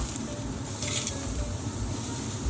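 Beef shish kebab skewers sizzle and crackle steadily on a grill after being flipped, a close, continuous frying hiss with small pops throughout.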